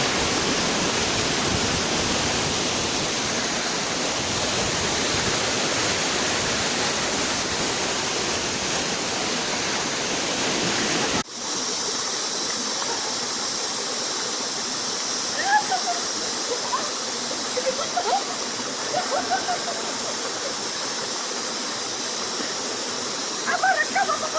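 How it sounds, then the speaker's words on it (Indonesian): Pyramid waterfall at Ule Alu in Bireuen, Aceh: a dense, steady roar of falling water fills the first half, then turns more distant and hissy, with faint voices and splashes after. "Ini air terjun piramida."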